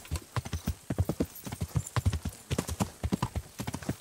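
Horse hooves clip-clop steadily in the medieval video game Kingdom Come: Deliverance, a close, even rhythmic clatter of many hoofbeats with no talk over it.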